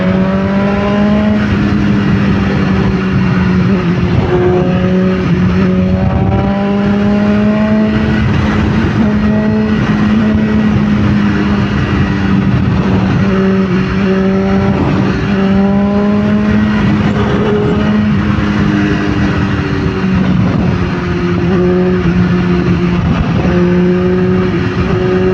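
A stock, untuned BMW S1000RR motorcycle accelerates hard through repeated gear changes, its loud, close engine note rising in pitch and then dropping at each shift for the whole stretch, with wind noise underneath.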